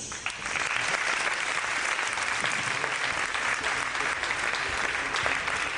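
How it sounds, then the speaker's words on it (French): An audience at a sports event applauds a gesture of generosity, with loud, steady, dense clapping filling the whole stretch without a break. "Je vous demande d'applaudir déjà pour ce geste."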